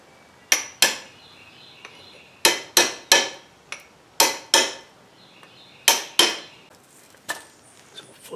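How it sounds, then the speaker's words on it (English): Sharp metallic hammer taps on steel wheel studs being started into a 1995-97 Ford F-250 hub, coming in close pairs and singles with short ringing decay and quiet gaps between. "I'm not going to hammer them in, but I'm going to tap them in just to get them started"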